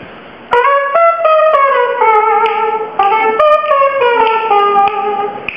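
A voice imitates a trumpet, buzzing a bright brassy melody of short phrases with sliding pitch, loud and close.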